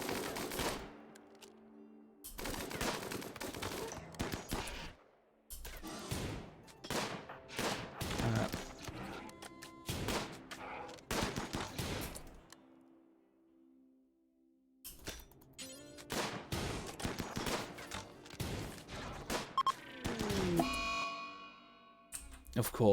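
Ranged troops firing volleys in a Warhammer battle game with the Salamanders, bursts of crackling gunfire in clusters separated by lulls, with a voice talking throughout.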